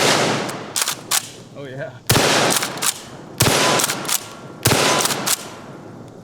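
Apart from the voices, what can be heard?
Kel-Tec KSG-12 bullpup shotgun firing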